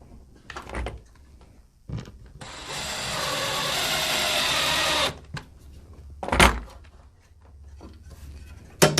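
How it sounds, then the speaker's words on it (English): A power screwdriver drives a screw into a wall stud to mount an air conditioner bracket for a split system install. It gives one sustained, steady whir of about three seconds, close and fairly loud, with short knocks and handling noises before and after it. "I'm going to put one screw in right here, and then I'm going to level this."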